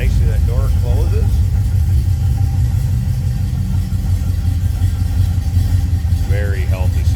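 A 1972 Oldsmobile Cutlass two-door idles with a loud, steady, deep rumble, heard from the rear of the car. Brief voices cut in near the start and the end.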